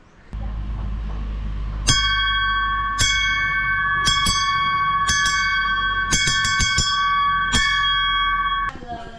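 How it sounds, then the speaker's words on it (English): A metal dinner bell struck by hand at a rural Thai farm community, ringing in a run of irregular clangs with long bright overtones, close and loud with no talk over it. "then we will ring the dinner bell that notifies all the people at Pun Pun to come for dinner"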